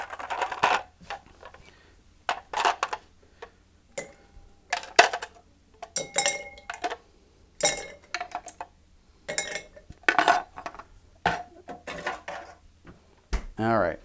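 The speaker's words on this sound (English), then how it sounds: "So we're going to get our ice out right now." Ice scooped into a glass while making a Tailspin cocktail, a series of separate clinking and clattering bursts with quiet gaps between, close by, ending with a louder rattle.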